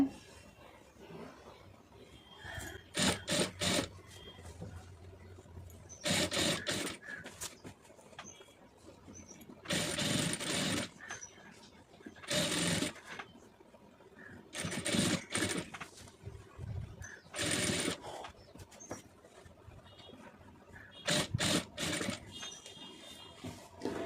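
A sewing machine stitches piping in repeated bursts of rapid whirring, each run lasting a second or two and separated by quiet pauses, close and fairly soft, with no talking.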